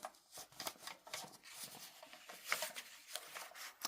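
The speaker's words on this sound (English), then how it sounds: "I'm going to cut this" Scissors cut through a book page with a series of crisp, quiet snips and paper rustles, close up and with no talking.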